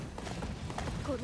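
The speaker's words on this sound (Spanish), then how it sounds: "Ahí está mi caballo." Horse hooves clip-clopping in the video game Attack on Titan 2, quick rhythmic thuds running under a voice speaking over the game.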